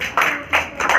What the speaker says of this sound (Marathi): टाळ्या वाजवा सगळ्यांनी मस्त